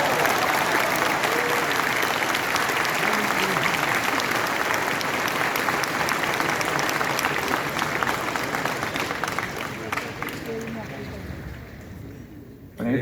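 Sustained audience applause fills a government appointment-letter ceremony hall, steady and dense for most of the stretch before thinning slightly near the end, with a voice faintly under it.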